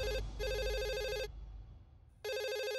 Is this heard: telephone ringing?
yes